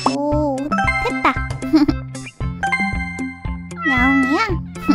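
Repeated cat meows from a veterinary video game, Paw Care, sounding loud and close in a steady run across the clip, with light jingling touches mixed in.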